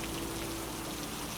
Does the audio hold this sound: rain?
yes